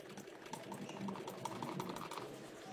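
A hand pump pushes fluid through a tube with rapid, rhythmic mechanical clicking and gurgling, faint and close, steady for a few seconds.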